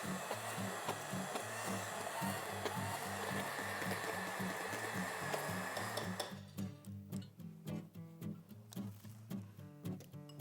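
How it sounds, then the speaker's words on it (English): An emulsion mixer blends a beet sauce made with heavy cream, giving a loud, steady whirring drone that cuts off about six seconds in, followed by faint scattered ticks and clicks. "And then we have our wonderful emulsion mixer here."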